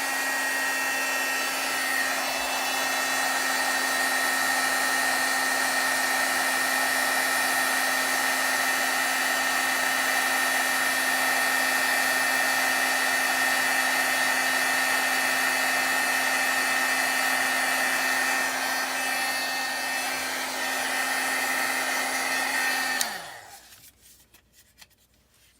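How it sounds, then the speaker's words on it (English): Craft heat tool blowing hot air runs as a constant loud whining roar with a steady tone for over twenty seconds, then spins down and cuts off, leaving faint handling noises. "Then we'll use our heat tool."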